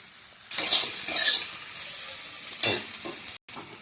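Potatoes and pointed gourd sauté with spices in a wok, giving loud sizzling frying with bursts of spatula scraping and stirring, close and clear, with no talking.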